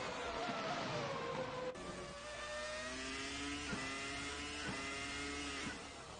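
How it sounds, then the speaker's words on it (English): Screaming 2000 Formula 1 V10 engines in Assetto Corsa race past at high revs, a dense layered whine with rising and falling pitch and sharp gear shifts, loud and continuous with no talk. "These screaming V10s just sing through the hills"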